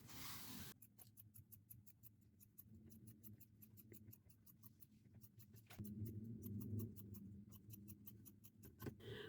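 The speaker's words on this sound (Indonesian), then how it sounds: "Gunting dacron press sebesar kain ini." Scissors cut through dacron batting for a baby quilt in close, quick repeated snips, a crisp clicking run of blade strokes that pauses briefly before picking up again.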